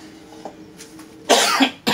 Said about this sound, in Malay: Batuk tu.